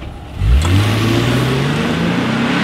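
A 2019 Lexus IS300 F Sport with a V6 engine accelerates hard, its engine note rising steadily in pitch from a low rumble into a strong, loud, sustained whine heard from inside the car.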